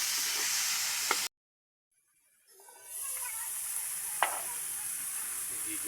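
Tomatoes hit a hot pan and sizzle and hiss steadily, with brief gaps and a soft clatter of stirring.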